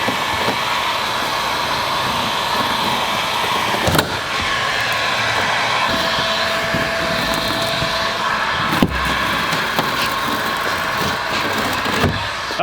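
A heat gun blows steadily while baked-on adhesive is stripped from a truck bed cover, a continuous loud hiss and whir broken by a few sharp scraping clicks.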